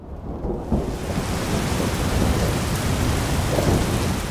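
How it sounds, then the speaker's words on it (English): Thunder and rain in the animated show Barbie, a broad rushing downpour that swells in after a brief quieter start and holds steady with a deep rumble beneath, no talk. "Mummy, it's raining."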